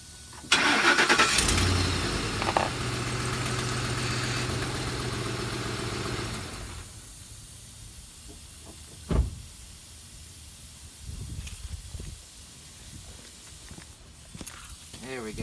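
A car's engine running and idling while the steering wheel is turned during a tire plug job, loud and steady for several seconds, then cutting off, followed by faint shuffling and a sharp knock.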